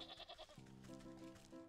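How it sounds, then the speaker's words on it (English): A sheep in the video game Wytchwood bleats in a few wavering, nasal calls, a quick rhythmic cluster followed by a longer drawn-out bleat, clear and close with no talk over it. "Also, look at the sheep."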